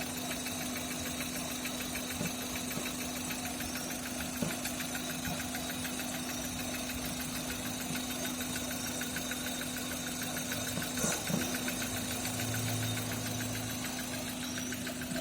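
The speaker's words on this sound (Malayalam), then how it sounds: "ഇപ്പോൾ വാഹനം സ്റ്റാർട്ട് ചെയ്തിട്ടുണ്ട്." A started vehicle engine idles with a steady, close, rhythmic knocking drone on a car whose battery is low on charge, continuing evenly throughout with no voices.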